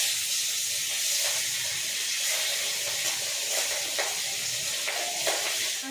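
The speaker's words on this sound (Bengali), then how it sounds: "তেলটা গরম হয়ে এসছে" Singi fish, rubbed with salt and turmeric, fry in hot oil in a home kitchen, giving a steady, even sizzle and hiss with small crackling pops throughout and no talking.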